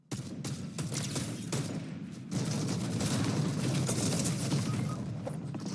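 Rapid shotgun blasts and gunfire crackle through a Fortnite fight, dense and continuous, with bursts piling on top of each other and growing louder after a short lull near the middle.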